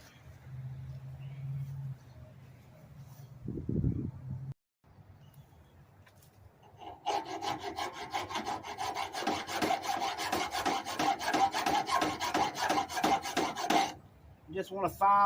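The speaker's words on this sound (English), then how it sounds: "You just want to file where this seam is right here that goes up." A metal file rasps over the seam of a lawnmower part in fast, steady strokes up close for several seconds, preceded by quieter handling knocks and a brief pause.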